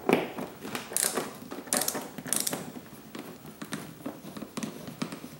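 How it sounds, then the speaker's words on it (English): A hand ratchet drives screws while a GPS is hard-wired into a Harley-Davidson Electra Glide, producing rapid clicking pawl bursts in short runs close by, mixed with small handling noises and no speech. "Let's set up to ratchet the other way."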